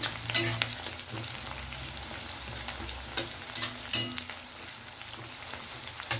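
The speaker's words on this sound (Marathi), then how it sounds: "पूर्ण लाल सारखा करून फ्राय करणार" Fish sizzles and fries steadily in a pan for a fish fry curry, with occasional stirring scrapes and bursts of crackling oil, close and fairly loud with no talking.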